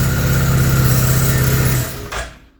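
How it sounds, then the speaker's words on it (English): A 2018 Massimo T-Boss 500 UTV engine runs at a steady loud drone near the camera, then drops off and fades away at the end, with no talk. "Let's go ahead and fire it up."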